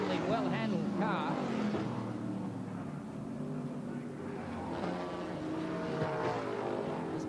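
Sports sedan race cars drive past on a racing circuit, their engines droning and shifting pitch as they go by, while a commentator talks over the noise.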